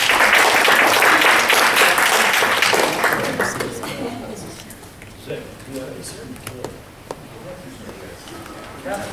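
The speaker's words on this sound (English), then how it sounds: "please give a round of applause to Lieutenant Drew Vasquez from the Santa Clara County Sheriff Department" An audience at a District 5 community meeting on public safety claps loudly and steadily, the applause fading over several seconds into scattered claps and room murmur.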